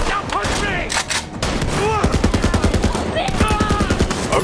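Rapid sustained machine gun fire in Borderlands 3, loud and close, with dense rhythmic bursts and brief gaps, mixed with other game effects and a talking voice.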